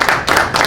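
Audience clapping for storyteller Benjamin Rexroad, a short close burst of dense hand claps swelling in two quick waves and carrying on without a pause.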